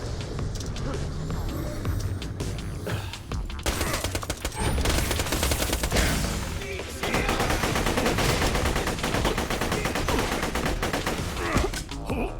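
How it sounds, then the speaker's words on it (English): Sustained gunfire in the video game Borderlands The Pre-Sequel, loud rapid bursts and automatic fire crackling almost without pause over twelve seconds, with a brief lull before it resumes heavily, and a voice talking over parts of it. "Who is shooting me so hardcore?"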